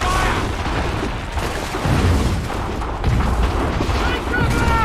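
Incoming artillery in Assassin's Creed III lands as repeated heavy booms and rumbling blasts over a dense battlefield din, with soldiers shouting throughout.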